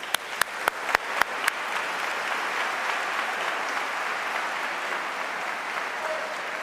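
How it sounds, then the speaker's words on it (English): At a tribute to Michael Jackson held at a mosque, an audience begins with a few sharp, separate claps. These quickly swell into a steady, moderately loud wash of applause that continues for several seconds. "with a warm round of applause"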